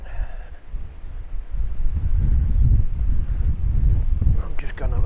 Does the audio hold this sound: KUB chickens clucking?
no